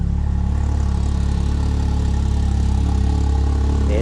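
A Jeep Wrangler 392 engine idles close by, a loud, steady, low rumble with an even pulsing beat that holds unchanged throughout.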